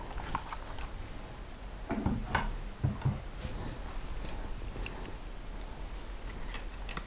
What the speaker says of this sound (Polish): Znowu użyjemy szybko złączki.